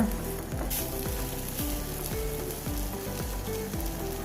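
Okra masala with lime juice frying in a pan, a steady close sizzle and crackle running throughout with a faint repeating pulse underneath and no clear stirring strokes. No voices.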